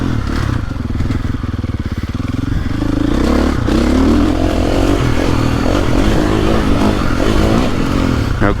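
A 2023.5 KTM 450 Factory Edition dirt bike, a 60-horsepower engine on cone valve forks with a revalved rear shock, is ridden through the woods. The engine roars loudly and continuously, with clattering and thumps from rough terrain over the whole stretch.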